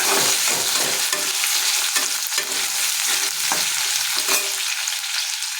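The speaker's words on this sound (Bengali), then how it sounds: "যাতে পেঁয়াজটা তাড়াতাড়ি করে ভাজা ভাজা হয়ে যায়, নরম হয়ে যায়।" Onions fry in oil with a little salt on a gas stove, crackling in a steady loud sizzle broken by repeated scrapes of stirring, with no one talking.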